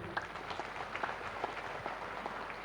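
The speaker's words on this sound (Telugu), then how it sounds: "పిఎంసికి గట్టిగా చప్పట్లు" Faint, distant applause from a meditation gathering audience, a soft even patter of many hands continuing throughout.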